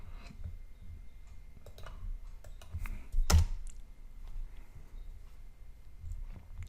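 Keys clatter on a computer keyboard as a command is typed, a run of quick close clicks with one heavier thump midway, a steady irregular tapping and no speech.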